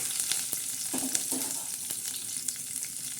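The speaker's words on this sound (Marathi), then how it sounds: "आता त्या तेलामध्ये आपण कढीपत्ता टाकलेला आहे असा मस्तपैकी कढीपत्ता आपण हलवून घ्यायचा" Curry leaves sizzle and crackle steadily in hot oil while being stirred, a dense frying hiss with a few scraping knocks from the spoon, close and alone without speech.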